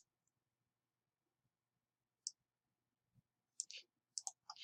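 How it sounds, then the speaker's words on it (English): A few sharp, close clicks of computer keyboard keys pressed for a Control D shortcut in a spreadsheet, scattered in small bursts after a near-silent pause. "on the keyboard, I hit Control D"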